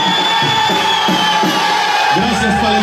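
A loud crowd cheers, whoops and applauds for children who have just danced zapateado at a contest in Wendell, North Carolina. The noise is continuous and steady, with mixed voices throughout.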